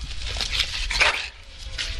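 Brief burst of dog barking and yips in the Dragon Age video game, a few quick, mid-distance barks over a low game ambience.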